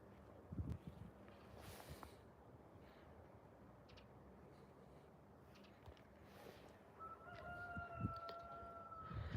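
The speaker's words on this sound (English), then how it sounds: "You hear the rooster singing?" A rooster crows at a distance on a rural property plot in Russia, its drawn-out call rising over steady outdoor background noise near the end.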